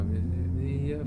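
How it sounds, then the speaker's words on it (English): School bus engine in the video game Life is Strange 2, a loud, steady low rumble that continues unbroken through the short stretch. "The school bus."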